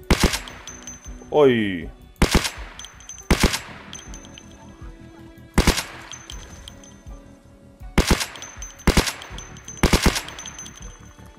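Suppressed rifle shots in the zombie survival game Project Zomboid, about eight sharp reports fired singly and in quick pairs, with a short voiced exclamation near the start.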